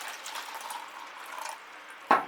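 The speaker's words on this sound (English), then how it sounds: "So let's just put some water in here." Water pours into a phalaenopsis orchid pot filled with inorganic media, a close, steady trickling stream that ends with a brief louder splash or knock.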